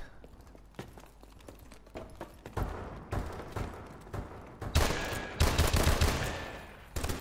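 Gunfire in Call of Duty: Advanced Warfare, with scattered shots early that build into dense, louder bursts of rapid fire toward the end, alone without talk.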